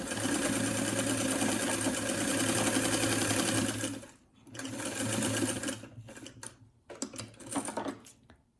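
Sewing machine stitching across a fabric face mask, a loud steady motor whir with rapid needle ticking for about four seconds, then shorter stop-start bursts of stitching between pauses.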